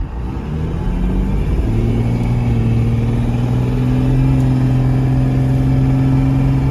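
A car swapped to a Cummins diesel engine pulls away from a dead stop, its loud engine drone rising steadily in pitch as it accelerates, building about 25 pounds of boost, close and continuous with no talk.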